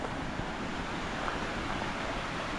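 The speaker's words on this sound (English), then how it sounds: "already we've got some minor falls here on the left hand side" A small waterfall flows in a brook on the Lesmurdie Falls hike near Perth, a steady close wash of rushing water with a faint wind rumble underneath and no talking.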